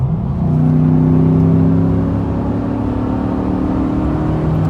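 An Acura accelerates past, a loud close engine drone whose pitch climbs steadily and then eases off as it goes by, with no talk over it.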